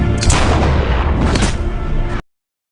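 A loud, dense barrage of gunfire and explosions from a film shootout, continuous booming and crackling up close, then cutting off abruptly into silence.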